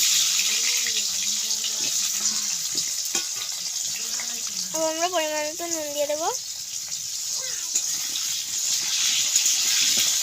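Potatoes frying in oil in a wok in a village kitchen, a steady bright sizzle running throughout with faint stirring and clinks, under someone talking in Bengali.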